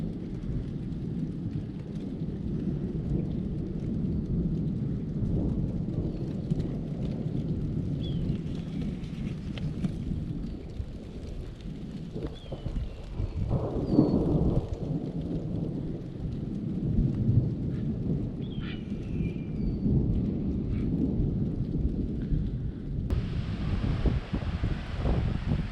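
A thunderstorm with rain rolls over Colorado public land, with low rumbling thunder, wind buffeting the microphone and a constant patter of raindrops throughout the long stretch.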